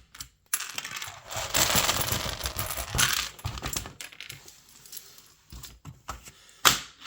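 A LEGO plate pressed onto a standard 16 by 16 plate, giving a close run of plastic clicking, scraping and rattling bursts that fades, followed by a few sharp clicks and one loud snap near the end.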